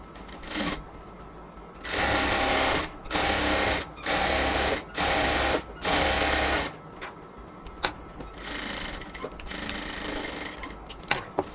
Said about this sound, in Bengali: এবার আরেকটা পাশে হচ্ছে আমরা এবার ডাবল সেলাইটা আবার দিয়ে নিব